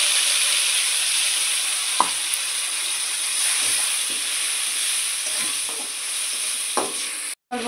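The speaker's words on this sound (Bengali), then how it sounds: "যে মশলাগুলো আমি বেটে রাখছিলাম সেটা দিয়ে দেবো।" Ground spice paste frying with onions in oil for egg curry, a steady hissing sizzle close by with a few light stirring taps scattered through it, no speech.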